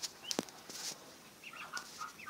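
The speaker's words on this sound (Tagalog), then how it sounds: "Ah, may pumasok na manok." A chicken that has wandered in among newly hatched ducklings gives a few soft, short clucks and squawks, with a brief flutter. It is fairly faint, with no talk.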